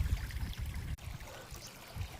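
Irrigation water in a farm field flowing and splashing, a low continuous gurgling rush close by with a brief bump partway through, no voices.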